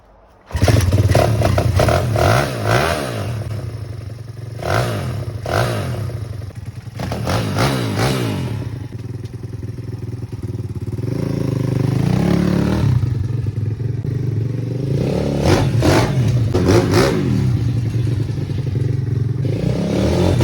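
A pit bike engine runs close by and is repeatedly revved, rising and falling in loud bursts over a steady idle, with some mechanical clatter between revs.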